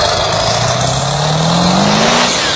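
A truck engine revs hard through its exhaust, the pitch climbing steadily in one loud, continuous pull heard up close with no talking.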